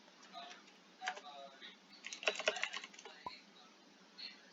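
A computer keyboard clacks in quick, irregular bursts of keystrokes at close range during a card game session, quiet overall, with a brief voice under the tapping.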